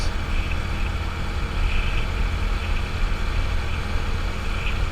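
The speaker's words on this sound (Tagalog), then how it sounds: "Sobrang smooth kasi i-drive itong si legendary Suzuki Smash" Suzuki Smash motorcycle engine running while riding, a steady low droning hum with continuous rumble and wind, close and even throughout with no talking.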